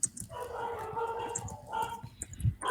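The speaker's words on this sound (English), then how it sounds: "You got a lot of dogs." Several dogs bark in short overlapping bursts at a moderate distance, mixed with yips and whimpers, while a person talks over them throughout.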